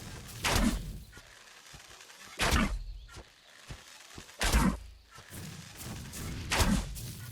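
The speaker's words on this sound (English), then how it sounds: "all we have to do is shoot him in the head" Gunshots fired at a Megaloceros deer in the video game Ark, four loud thumping shots spaced about two seconds apart, each with a short burst and decay, with no talk over them.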